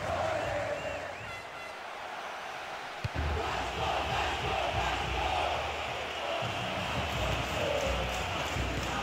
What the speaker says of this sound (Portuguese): E perceba pela reação da torcida.